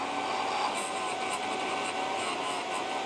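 A drill bit sharpener grinds a factory drill bit lacking relief, giving a steady high-pitched whirring hum with a thin constant tone and faint gritty scraping throughout, fairly quiet and unbroken.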